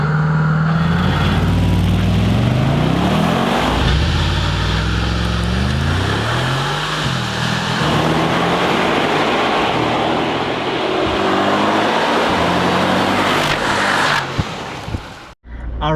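A 2020 Mercedes-AMG G63 G-Manufaktur pulls away loudly, its engine revving up through rising gear changes and then holding a steady, strong drone.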